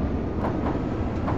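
An underground subway train passes in Metro Simulator, a continuous loud rumble and rattle of rail wheels with faint rhythmic clicks, no voices.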